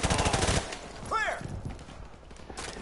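Rapid bursts of video game gunfire crackle in the first half second, followed by a whooshing sweep and scattered fainter shots, with a player's voice mixed in.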